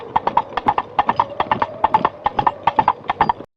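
Coconut shells struck together imitate a horse's hooves, giving a crisp, hollow clip-clop in quick, uneven pairs of knocks, close and loud, with no talk over it.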